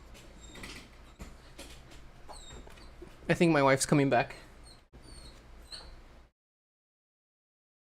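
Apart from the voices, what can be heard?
dog whimpering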